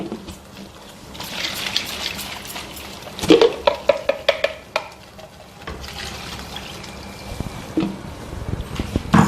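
Sambar is stirred in a pot with curry leaves added, giving soft liquid sloshing and a few sharp clinks of a spoon against the pot, close and moderately loud, with no talking.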